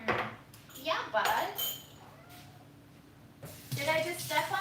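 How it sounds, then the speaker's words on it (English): Cat meowing after being stepped on in a home kitchen, a couple of short cries amid people talking and light clatter of dishes and cutlery. "did you just meow because I stepped on you?"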